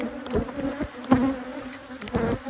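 Agitated honey bees swarm close around a beekeeper in the Texas Hill Country in spring, a loud, steady buzzing with individual bees zipping past the ear.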